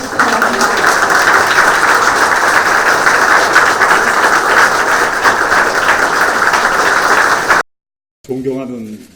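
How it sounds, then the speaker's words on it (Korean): Loud, steady applause from the audience at a Korean justice minister's inauguration ceremony, dense and continuous for about seven seconds before cutting off abruptly, followed by a brief spoken voice. "박수로 맞아주시기 바랍니다."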